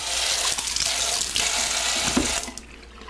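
A kitchen tap runs steadily as a knife is rinsed under the stream, a close, even gush of water that stops abruptly near the end.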